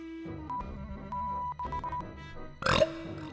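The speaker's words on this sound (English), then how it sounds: "Burps cutely." A VTuber on a livestream lets out a loud, brassy burp near the end, rising over a steady electronic backdrop of tones and soft noises that fill the stretch before it.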